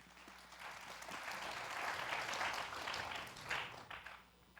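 Warm applause from a school competition audience welcoming the Sudo Girls' High School mock civil trial team, a steady dense clapping that swells and holds for several seconds, somewhat distant and soft.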